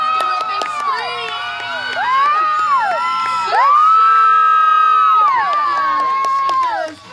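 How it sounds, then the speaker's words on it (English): A crowd at a farm dog show, with children prominent, cheers and screams loudly in high sustained shouts that swell and peak midway, then fade near the end. "All right, let's give her a big scream."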